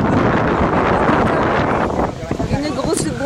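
A strong gust of wind at an outdoor dog agility event roars as loud, rushing microphone buffeting for about two seconds, then eases as a voice speaks over the lingering wind.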